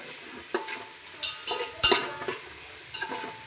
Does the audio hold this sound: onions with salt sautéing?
yes